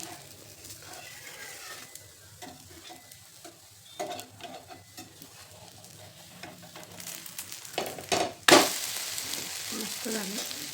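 Fasting thalipeeth sizzling in a pan after flipping: a soft continuous frying hiss with scattered scraping and tapping, growing louder near the end with a sharp clatter, close up and without talk.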